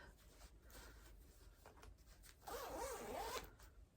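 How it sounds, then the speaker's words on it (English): A zipper is pulled closed along a crocheted bag in short strokes, ending in a longer, louder zip, close up and alone amid soft rustling. "And I can zip it up."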